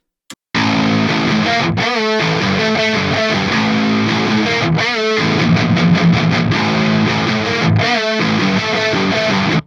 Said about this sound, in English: two different types of guitar tones with two different sets of panning